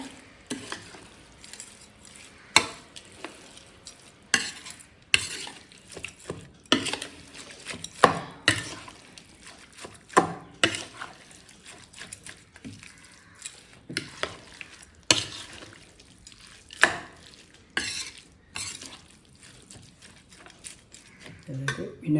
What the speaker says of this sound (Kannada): ಒಗ್ಗರಣೆ ವೆಜಿಟೇಬಲ್ಸ್ ಎಲ್ಲ ಮಿಕ್ಸ್ ಮಾಡ್ತಾ ಇದ್ದಾರೆ